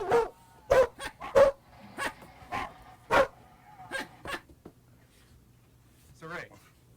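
A run of loud barks and short yips, with a whimpering tone, comes in separate bursts close by. A voice imitating a dog is mixed in with the real dog's barks.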